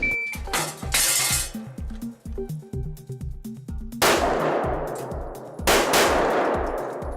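Rapid pistol shots fired at an indoor IDPA match, a string of sharp loud cracks with ringing metallic hits on steel targets and echoing reverberation in the hall, no talk.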